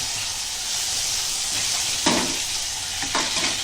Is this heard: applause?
no